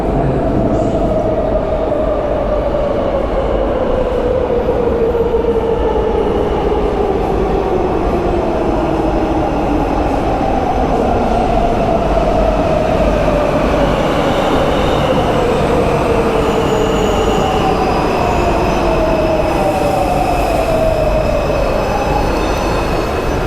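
A Warsaw metro train running loud and close, with continuous rumbling wheels and long, high, squealing tones that slide downward as the carriages move along the track.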